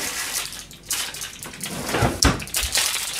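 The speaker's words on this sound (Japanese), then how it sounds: "生姜も切るか。" A kitchen knife slicing ginger on a cutting board during home cooking: a handful of irregular, soft chopping knocks, the firmest bunched near the end, with no talking.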